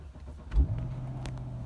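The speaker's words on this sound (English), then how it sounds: "Now you can start the car" A BMW X5 E70 engine starts with a brief low thump as it cranks, then settles into a faint steady idle hum, all quiet and close.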